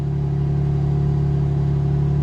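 Engine of a BMW G8x Competition fitted with a RaceChip GTS Black tuning module, idling steadily with a continuous low hum and droning tones, close and unchanging.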